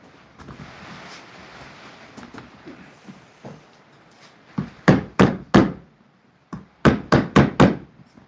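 Hammer blows ring out in a small workshop: faint taps at first, then a loud burst of three sharp strikes, a short pause, and a rapid run of about five more hits, with no talking.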